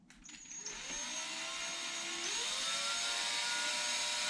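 Power drill starting a pilot hole for a dryer vent install, a motor spinning up with a rising whine that settles into a steady high-pitched drone, close and alone.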